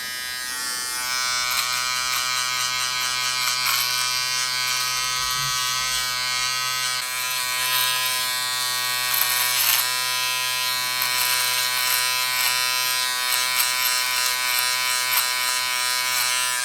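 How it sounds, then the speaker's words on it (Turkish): A Wahl 3615-1016 travel beard trimmer runs steadily up close, giving a constant high-pitched electric buzz with no talk over it for the whole stretch. "Makine yandan çalışıyor."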